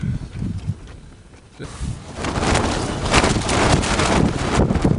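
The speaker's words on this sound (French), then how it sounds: "Ça c'est une bonne petite rafale de vent." A strong gust of wind on Aconcagua during a climbing expedition, a roaring, buffeting rush against the microphone that eases briefly and then swells louder and stays steady, close and harsh with no voices.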